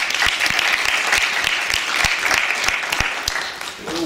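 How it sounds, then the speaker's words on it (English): An audience claps steadily for the presenters and moderator before a formal debate, dense applause with sharp individual claps standing out, holding at an even loudness throughout and tapering slightly at the end. "let's give our presenters and our moderator a round of applause"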